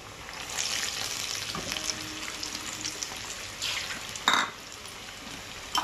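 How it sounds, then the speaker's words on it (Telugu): Potato and flattened rice garelu fry in hot oil, giving a soft, steady sizzle with light bubbling and a few sharper crackles, fairly quiet and heard alone. "ఆయిల్లో వేసినాక ఒక 5 నిమిషాల సేపు దాకా లోనే ఉంచేసి ఉడకనివ్వాలి."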